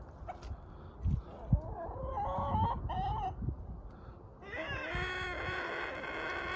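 Chickens squawk and cluck in a yard as a young rooster goes after the hens, with agitated calls and scuffling, then a longer raised squawking near the end.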